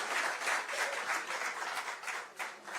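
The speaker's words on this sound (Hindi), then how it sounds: "एक बार गोपाल जी के लिए भी एक बार तालियां" Dense, steady applause from a large audience at a Rajasthani community convention with a political leader in Maharashtra, many hands clapping together throughout without pause.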